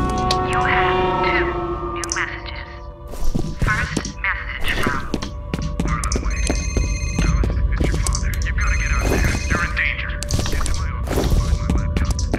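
Telephone ringing inside an office level of the F.E.A.R. video game, repeated electronic rings over steady game ambience and a low hum, with a person talking over it.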